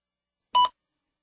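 One brief, clear electronic tone sounds once in otherwise silent surroundings, crisp and close.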